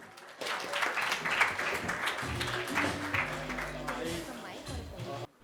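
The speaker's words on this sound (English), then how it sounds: "Please welcome Dr. Murari Jha with a huge round of applause." A TEDx audience at Meridian Madhapur applauds to welcome a speaker, broad steady clapping filling the room for about five seconds, with voices and faint music mixed underneath before it cuts off.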